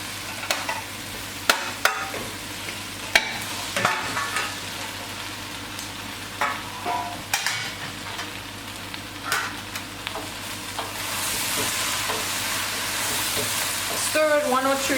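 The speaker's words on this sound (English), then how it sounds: "After browning this a little bit, you can add your meat back into this pot." Oxtail meat browning in a pot with fresh thyme, sizzling steadily while a spoon scrapes and stirs in repeated sharp knocks, the frying hiss swelling louder toward the end; no talk.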